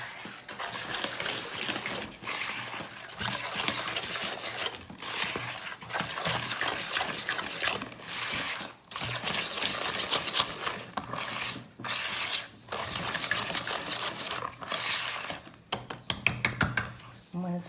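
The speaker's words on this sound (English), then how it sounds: "And that all gets added to these dry ingredients and whisked together." Batter for a mocha pudding cake whisked by hand in a bowl, a steady scraping, clattering rhythm broken by a few short pauses, close and fairly loud throughout.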